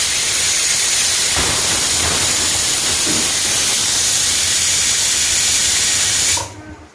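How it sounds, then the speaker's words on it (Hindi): A pressure cooker cooking dal whistles and vents steam in a home kitchen, a loud continuous hiss that runs for several seconds and then cuts off abruptly. "कुकर ने सीटी मार दी है और दाल तैयार हो गया है।"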